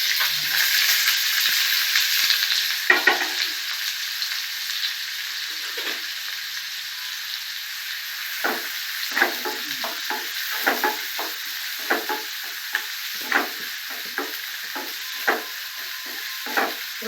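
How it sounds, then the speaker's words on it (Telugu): Sliced onions frying in hot oil with mustard seeds and urad dal for a catering-style brinjal and chana dal curry, a steady loud sizzle broken by repeated stirring scrapes, close up with no talk. "ఉల్లిపాయలు బాగా ఆయిల్లో ఫ్రై అవ్వాలి, మెత్తబడే వరకు."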